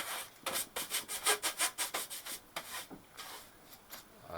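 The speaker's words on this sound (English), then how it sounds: "Let's clean the dust off." Dust is wiped off a Drake TR-7 ham radio transceiver with a cloth, giving a quick series of close, rhythmic rubbing swipes, each a soft scratchy burst, with no talking.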